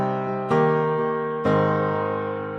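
Piano lays down basic triad chords for a pop country verse, with sustained chords changing twice as fresh strikes cut in, each ringing and fading, clear and close with no talking.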